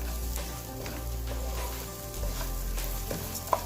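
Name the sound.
rice, onions and garlic frying in a pan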